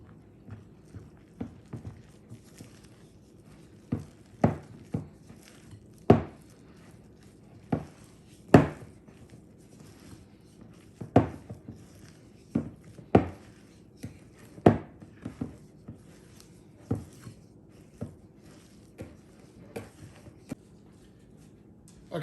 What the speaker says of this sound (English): the recipe, 1/2 cup of milk, and stir this to make a dough